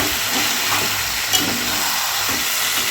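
Chicken and masala sizzle and crackle in an oily pan while being stirred, a steady close frying hiss with brief scraping strokes and no talking.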